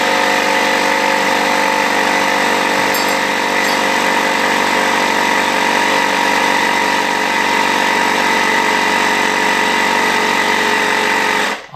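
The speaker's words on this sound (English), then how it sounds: "I'm going to loosen my tourniquet and crank some more air into it until it gets up to the right pressure." A hand-cranked air pump steadily inflating a totally flat tubeless tire, a continuous loud mechanical rush with dense tonal layers that holds unbroken for the whole stretch, then cuts off abruptly at the end.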